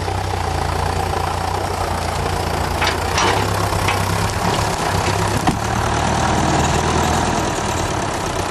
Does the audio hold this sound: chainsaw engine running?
yes